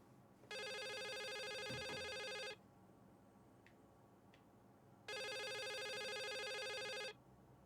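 A telephone rings twice in The Case of Rachel Foster game, each ring a steady buzzing trill about two seconds long with a gap of silence between, clear and loud against a quiet room.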